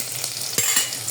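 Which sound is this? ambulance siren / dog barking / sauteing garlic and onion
sauteing garlic and onion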